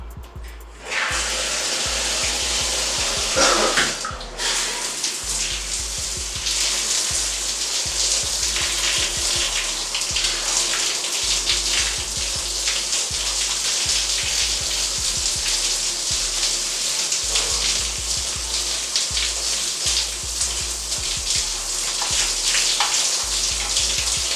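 Water pours steadily over a head of hair to rinse out African black soap lather, a loud continuous close splashing spray after a brief pause near the start, with no talking.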